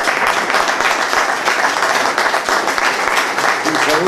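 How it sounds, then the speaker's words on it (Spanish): An audience applauds after a lecture on the geostrategy of the Spanish Empire, a dense, sustained round of clapping that stays loud and even throughout. "un aplauso a Javier."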